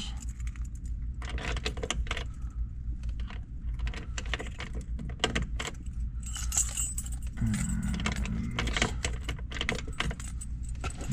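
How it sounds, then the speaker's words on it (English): A set of keys for a 1967 Chevrolet Corvette Convertible with a 427/435hp L71 engine jangles and clinks steadily for several seconds while being picked up and sorted, close to the microphone. "go ahead and grab the keys"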